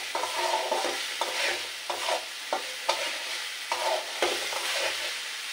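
Fish roe and spices stir-fried in a pan for an eggplant curry, a steady sizzle broken by repeated scraping strokes of a spatula every second or so, close and moderately loud with no talking.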